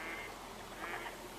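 Ducks quack a few times at a lake in the Duck & Cover DLC of a hunting video game, faint calls over a steady ambient wash with no talking.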